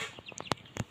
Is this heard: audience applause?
no